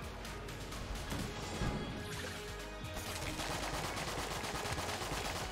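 Dense, continuous gunfire from the Enter the Gungeon video game: rapid overlapping shots in a steady barrage with no pauses, loud and close, with no talking.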